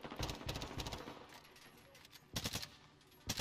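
Video game gunfire in quick bursts of automatic shots, with several rapid volleys early, a quieter stretch, then sharp clusters of shots near the end, partly under game sounds.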